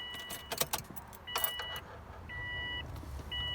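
Car keys jangle and clink in a couple of quick bursts as a key goes into a car's ignition, followed by faint electronic beeping tones from the dashboard in a quiet cabin.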